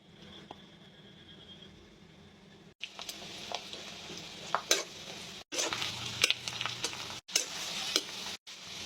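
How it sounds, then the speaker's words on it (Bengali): Garlic and onion tempering in hot oil for thin khichuri, a low sizzle that swells as the ingredients hit the pan, broken by several sharp stirring scrapes and clinks of a utensil against the pot. "এখন বাগার দিব রসুন আর পেঁয়াজ দিয়ে বাগার দিব"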